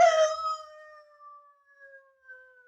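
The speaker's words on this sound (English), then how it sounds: "Jacko, the three-quarter Irish setter." A three-quarter Irish setter lets out a single long, mournful howl in a radio drama, opening strong and then trailing off into a thin, wavering tone that fades away.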